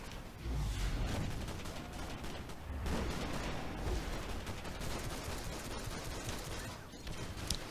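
Rifle fire in the DCUO video game: dense, continuous volleys of shots with rolling booms, steady and fairly distant in the mix, with no talk over it.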